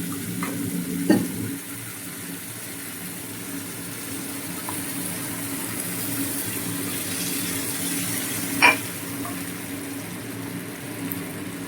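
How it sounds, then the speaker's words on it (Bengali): Spice paste for paneer posto frying in hot oil, giving a steady, close crackling sizzle throughout with a couple of sharp stirring clinks. No one speaks. "তেল গরম হয়ে গেছে, পেস্টটা দিয়ে দিচ্ছি।"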